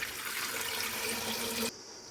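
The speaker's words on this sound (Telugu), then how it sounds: "ఇప్పుడు ఇందులోకి వాటర్ వేసుకొని" Water pours steadily into a pressure cooker holding cleaned sweet potatoes. The rushing, splashing stream is close and even, then stops abruptly near the end, leaving quiet room tone.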